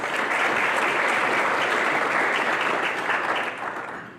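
Sustained applause from a sizable crowd at a chamber of commerce legislative event, dense and steady, tapering off slightly near the end.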